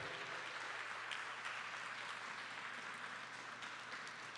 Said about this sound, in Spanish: Si va a aplaudirle, mire, apláudala fuerte